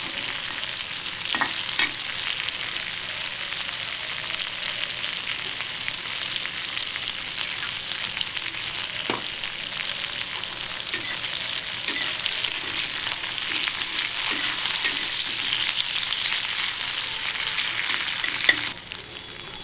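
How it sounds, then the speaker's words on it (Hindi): Onions frying in a pan on low heat for arbi sabzi, a close, steady sizzling hiss with occasional light stirring scrapes throughout. "प्याज हल्का भून चुका है"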